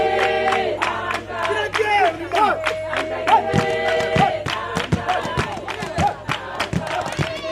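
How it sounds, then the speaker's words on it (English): At a cultural exchange night with South Sudanese peacekeepers, a crowd claps and cheers loudly, with shouts, whoops and voices mixed over rhythmic clapping throughout. "A big round of applause."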